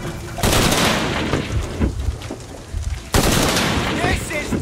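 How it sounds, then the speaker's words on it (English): Rapid bursts of gunfire from a firefight in the action-adventure game Shadow of the Tomb Raider, loud and dense with booming impacts, pausing briefly before another heavy volley; faint voices mix in. "More gunfire, do you copy?"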